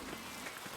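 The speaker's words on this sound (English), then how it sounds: "Stormy morning." Steady rainstorm in the Pentiment video game, a soft continuous hiss of falling rain lasting under a second at low level, with no voices.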